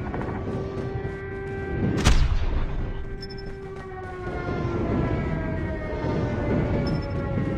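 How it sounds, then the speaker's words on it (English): Airstrike explosions in Call of Duty Mobile on the Scrapyard map, a sharp blast near the start followed by ongoing rumbling booms beneath a steady sustained alarm-like tone, with no talking. "Friendly airstrike incoming."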